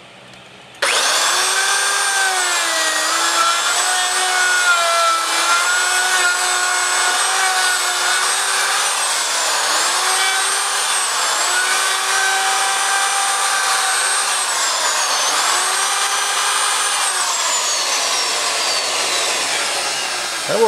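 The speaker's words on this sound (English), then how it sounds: "we took the chisel and we cut some tread off the turf savers" A turf-saver tire is grooved with a chisel, probably a powered cutting tool, that gives a loud, steady whining drone. The pitch dips and recovers several times as the tread is cut.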